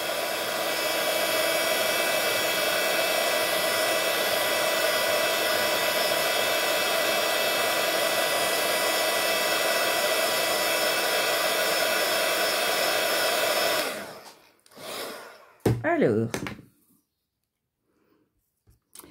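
A heat embossing tool blows hot air onto paper with a loud, steady whooshing hum close by for about fourteen seconds, then cuts off, followed by a few faint handling sounds.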